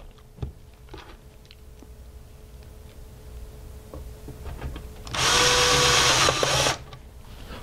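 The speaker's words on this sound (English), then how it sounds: "by inserting the 2 screws." Two screws are driven into the cover plate of an AC breaker compartment. Faint handling taps come first, then one loud powered driver burst of about a second and a half, close by.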